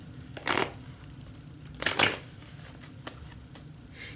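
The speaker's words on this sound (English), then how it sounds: "I'm trying to shuffle the cards." Two quick riffles of tarot cards being shuffled, soft and close, separated by pauses with faint taps.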